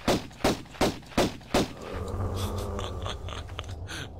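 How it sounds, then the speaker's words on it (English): Five evenly spaced pistol shots in the video game Tomb Raider, sharp and loud, about a third of a second apart, followed by a low rumbling game ambience with no talking. "I guess I'll pull out my normal pistols and start shooting"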